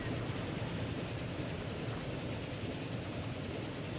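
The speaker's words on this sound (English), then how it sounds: "We just fly by that train there." A train passes in the video game Transport Fever, set in a 1910 European freeplay map. It makes a steady, dense rumble of rolling noise that holds evenly for the whole stretch with no talk.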